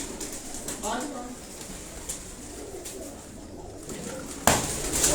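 Caged breeder pigeons coo softly in a loft in Haripur Hazara, with low murmuring calls scattered across the scene, faint voices nearby and a sharp clatter near the end.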